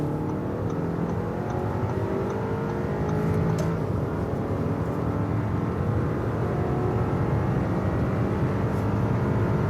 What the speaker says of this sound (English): We go to the dynamic mode to get more boost from that. And we can also accelerate on the motorway and also overtake this truck